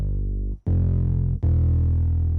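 A Next Fretless acoustic bass preset from the Expand 2 plugin plays three deep, booming sustained notes in a rage beat, with a brief gap after the first and a sharp attack on each, loud and distorted-sounding.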